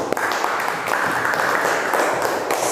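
A classroom of students claps together for nearly three seconds, a dense, even patter of hands under a faint, sharp ping near the start.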